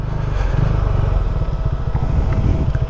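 Motorcycle pulling away from a dead stop in first gear as the clutch engages, a loud close engine with a rapid pulsing exhaust rhythm throughout.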